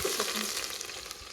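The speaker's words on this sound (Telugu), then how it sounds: "ఇప్పుడు తగినన్ని ఆనియన్స్ అయితే వేసుకుందాం." Onions and tempering spices frying in hot oil give a dense, even sizzle and crackle from close by, with no voices.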